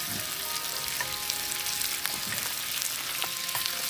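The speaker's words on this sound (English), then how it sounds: "When we're getting a little bit of colour on our onion, guanciale's starting to crisp up a little bit." Onion and guanciale fry in a hot pan with a steady, fairly quiet sizzle, broken by a few soft clicks and crackles.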